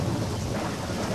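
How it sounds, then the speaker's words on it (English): Dense rumbling thunderstorm with heavy rain pouring, a loud continuous low roar of thunder layered under the hiss of rainfall, no voices. "Lightning and thunder."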